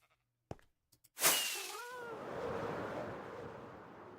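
A sheep bleats once in a video game, a wavering cry that rises sharply after a few soft clicks and trails off into an airy, surf-like background hiss.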